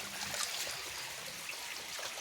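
A thin stream of clean water runs through a narrow drain fed by a nearby stream, making a constant soft rushing trickle that stays even and close throughout.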